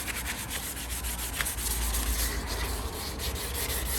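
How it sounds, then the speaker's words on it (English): Steady abrasive rubbing of a sandpaper block over a surfboard, a close, continuous scratchy hiss with faint rhythmic strokes. "So sanding."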